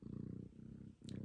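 A pet cat purrs close by in a steady, rumbling rhythm that pauses briefly before resuming, the only sound present.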